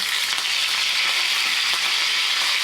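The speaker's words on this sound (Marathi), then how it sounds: "तेल तापलं की टाकायचं आहे जिरं अगदी थोडासा हिंग थोडासा कढीपत्ता" Cumin seeds, a pinch of asafoetida and curry leaves hit hot oil in a kadhai, producing a loud, steady, close hiss of sizzling with faint crackles throughout.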